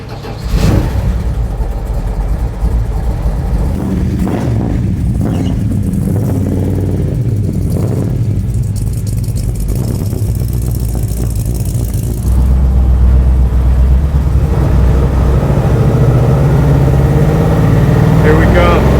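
Rumbling V8 of a HEMI-powered 1968 Dodge Charger land-speed car built for Bonneville, heard from inside as it runs and pulls, a steady low drone rising a little later, with occupants talking over it.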